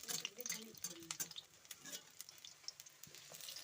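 Soft sizzling of pumpkin flower pakoras frying in oil, with scattered crackles and spoon scrapes, quiet and close-up.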